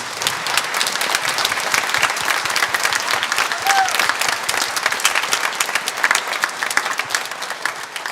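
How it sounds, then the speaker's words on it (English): Audience at a high school band spring concert applauds seniors with sustained, dense clapping that stays loud and even throughout, with no speech over it. "So one more round of applause, please, for our seniors."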